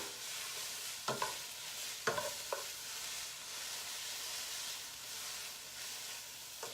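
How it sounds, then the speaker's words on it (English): Fresh zucchini noodles frying and being tossed in a pan on a stove, a steady close sizzle with a few sharp knocks and scrapes of the noodles shifting, and no voices. "they're kind of hard to toss when they're just fresh like this"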